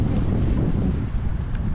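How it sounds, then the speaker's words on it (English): Strong, cold wind on a lake at South Hegman in the Boundary Waters buffets the microphone in a steady, roaring rumble for the whole stretch, loud and low, with no voices. "it is very windy and very cold"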